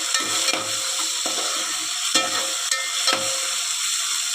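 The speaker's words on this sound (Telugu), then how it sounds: "పచ్చి వాసన పోయే వరకు ఈ అల్లం పేస్ట్ని ఇలా ఫ్రై చేసుకోవాలి ఆయిల్లోని ఒక 2 మినిట్స్." Ginger garlic paste frying in oil for tomato rice, a constant bright sizzle up close with several distinct scrapes and clinks of a ladle stirring through the pan, no voices.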